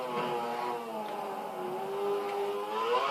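A high-pitched Formula 1 car engine in the video game F1 2012 whines continuously, its revs rising and falling smoothly in a sharp, buzzing tone, close and loud.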